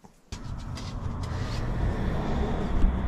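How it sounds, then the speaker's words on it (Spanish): Steady road traffic on a busy early-morning street near Glengarriff, heard from a parked motorhome: after a brief quiet moment a continuous rush of cars rolls past, swelling gradually louder with no talking. "Menudo no parar de coches es esto"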